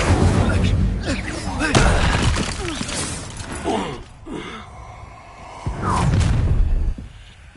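Spell-casting combat in Hogwarts Legacy: magical whooshes, crackling blasts and impacts burst out in bursts under heavy character dialogue and shouted incantations, with a loud sustained battle wash throughout.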